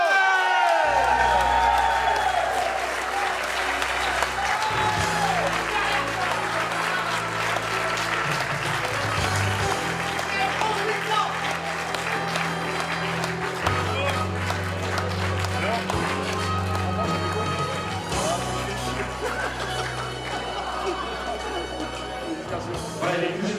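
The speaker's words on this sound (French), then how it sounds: "Merci d'applaudir Sébastien Darder." Awards-ceremony crowd applauding the 2014 French Super Buggy champion, steady dense clapping sustained throughout with music or background sound underneath, fairly loud and close.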